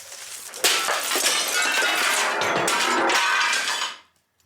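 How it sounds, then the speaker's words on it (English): A mirror bursts into shattering glass with a sharp initial crack, followed by a sustained bright spray of splintering shards that cuts off abruptly. "She struck the mirror again, and this time it came crashing down."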